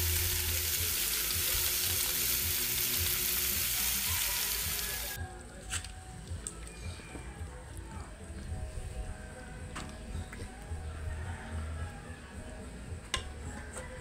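Chicken curry with carrots, potatoes and red chili frying in a pot, a dense loud hiss at first that drops to a softer steady sizzle with occasional clicks.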